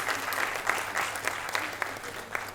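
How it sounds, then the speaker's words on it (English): Audience applause for the women at an Indian Women in Dubai International Women's Day event, a steady crowd clapping at moderate level with a few sharper claps standing out over the full stretch. "please a huge round of applause for yourself, please"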